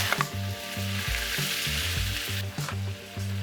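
Chopped onions go into hot oil where cumin and mustard seeds are already popping, giving a steady, close sizzle throughout, with background music underneath.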